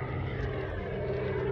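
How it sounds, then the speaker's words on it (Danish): A steady, droning rotor-and-engine hum from a helicopter flying overhead holds at an even level for the whole stretch, with no talk. "Der er sådan en helikopter der,"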